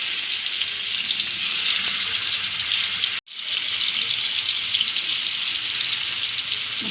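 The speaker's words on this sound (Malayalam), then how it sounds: "നമുക്ക് മീൻ വറുക്കാടാം" Fish fries in hot oil in a pan on a stove, a loud, close, continuous sizzle that cuts out for an instant midway before resuming just as strongly, with no talking.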